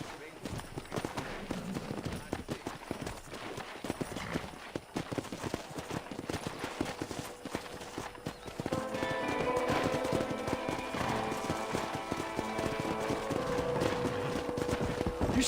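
Horse hooves clip-clop in the Western video game Red Dead Redemption, a steady trotting rhythm under voices, joined midway by louder game music.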